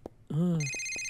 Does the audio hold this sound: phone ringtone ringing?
yes